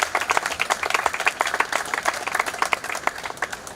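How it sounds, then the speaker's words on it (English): Audience clapping for a basketball coach during a team visit, a modest group with individual claps standing out in a quick, uneven rhythm, fairly close. "let's give a big round of applause for the winningest coach in New York State history"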